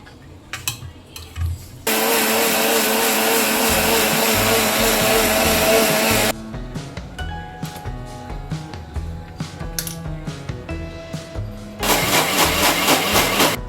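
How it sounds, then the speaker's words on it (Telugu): A mixer grinder grinds a mix of four kinds of soaked lentils into dosa batter, running in two loud steady whirring bursts separated by a pause filled with light clatter. "మొత్తం నానబెట్టుకున్న పప్పులన్నిటినీ ఈ విధంగా మెత్తగా గ్రైండ్ చేసుకుంటున్నాను దోశల పిండి మాదిరి"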